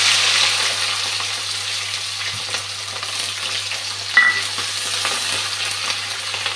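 Onions and green chillies fry in a pan with a steady, loud, close sizzle, broken by occasional stirring scrapes and a brief clink near the middle.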